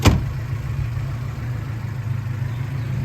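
1973 Alfa Romeo GTV engine idling after a cold start, a brief sharp catch at the outset giving way to a steady low, even idle heard close up without voices.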